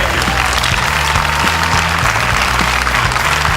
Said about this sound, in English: Let's have a big round of applause for Boris Kojo, Sam Crenshaw, and the Park sisters.